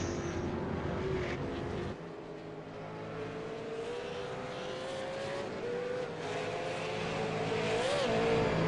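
V8 Supercar race car on a flying lap at Oran Park circuit, a distant engine roar that rises and falls steadily across the clip, heard faintly from afar.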